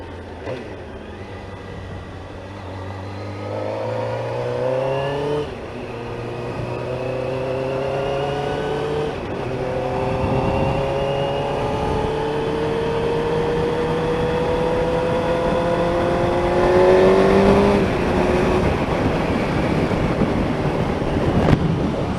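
Cars passing on a road on a crisp morning, engine tones rising and falling as several vehicles go by close and fairly loud, overlapping into a steady traffic drone.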